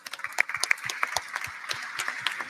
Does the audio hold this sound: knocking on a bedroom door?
no